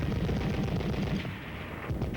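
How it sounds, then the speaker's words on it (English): Rapid bursts of .30 caliber machine gun fire on a training range, a dense stream of reports that is moderately loud and slightly distant, with no voices over it. "back to the range to learn to fire additional weapons like the .30 caliber machine"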